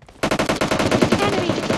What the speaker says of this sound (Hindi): ऊपर से तेरे पे शॉट ले रहा